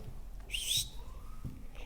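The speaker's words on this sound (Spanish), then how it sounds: "Les hago un chiflido que yo tengo." A short, bright whistle rises sharply and then holds steady for a moment, heard alone over faint background noise.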